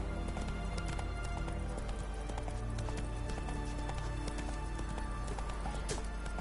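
Steady clip-clop of a horse galloping in The Witcher 3: Hearts of Stone, rhythmic hoofbeats kept up throughout over a busy game soundscape of ambient music and background noise.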